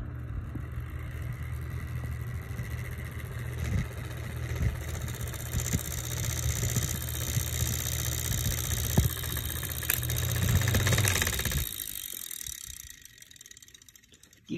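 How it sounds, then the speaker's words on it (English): A PC case fan whirs steadily with a ticking, rattling scrape as its blade catches on a wire, then cuts off near the end. "Turn the fan on."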